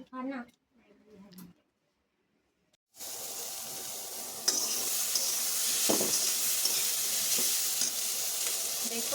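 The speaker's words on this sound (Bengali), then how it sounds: "এখানে আলু বরবটি ভাজা বসিয়ে দিয়েছি" Potatoes and yardlong beans frying in a pan for breakfast: after a brief voice and a pause, a loud, steady sizzle with hissing spatters and an occasional clink of stirring runs to the end.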